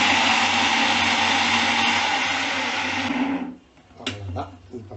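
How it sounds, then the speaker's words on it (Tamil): A mixer grinder blends shallots, garlic, ginger and green chillies with a loud, dense, whirring roar for about three seconds, then winds down. Clattering and a voice follow once it stops. "இப்போது மிக்சியில் வச்சு"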